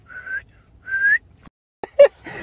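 A person whistles a few short, clear tones: two sustained notes, a pause, then a quick brighter chirp-like whistle, close and alone without talk.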